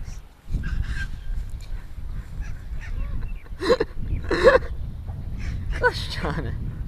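Birds fighting in a tree give honking, goose-like calls. They come in several loud bursts over outdoor rumble, with people talking throughout.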